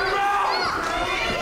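Crowd at a wrestling event shouting and roaring, a dense, steady wall of mixed voices that fills the whole short moment at close range.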